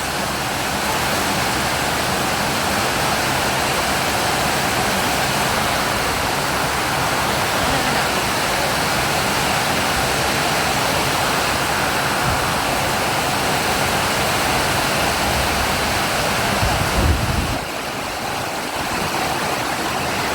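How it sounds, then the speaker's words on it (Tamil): Heavy afternoon rain pours down in a steady, dense roar, close and loud throughout, easing slightly near the end. "கரெக்டாக மணி 3:10க்குள்ளே மழை. நல்லா கனமாக பிடிச்சிருச்சு."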